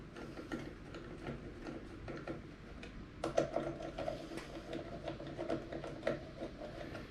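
A ratchet clicks rapidly as 8mm bolts are run into a pit bike in a home garage, with bursts of metallic ticking and light tool clatter, close up and with no talking.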